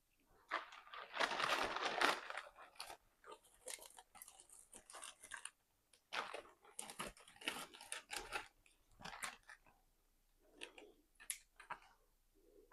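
Scissors snip and crunch through filler material for a spa Christmas gift basket, close up, in irregular bursts of rustling cuts separated by short pauses.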